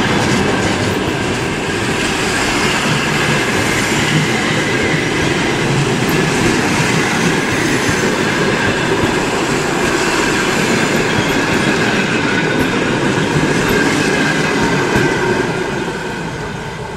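A train rolls past at night, loud and close, in a continuous heavy rumble with the rattle of wheels on rails. The sound eases slightly only at the very end.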